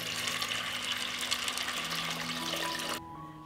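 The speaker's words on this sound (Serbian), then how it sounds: "i preliću sa hladnom vodom." Cold water pours steadily into a pot of cleaned, washed beans, a close rushing splash that runs for about three seconds and then drops away to a quieter trickle.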